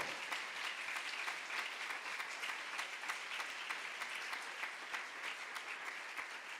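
A church congregation applauds steadily during a Spanish-language service, with dense, sustained clapping that fills the whole stretch at an even level and no speech over it.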